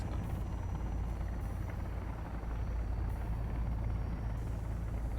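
A helicopter in the video game Sons of the Forest gives off a steady, loud, dense rotor and engine rumble that holds evenly for the whole stretch, with no speech.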